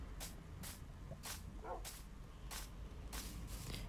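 Dogs in the video game Minecraft give several short, soft yips and barks spaced through the clip over a steady low background hum.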